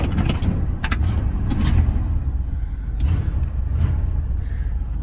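1983 Ford F100 pickup with a 302 V8 and automatic transmission idling steadily nearby, a low continuous rumble with a few brief clicks on top.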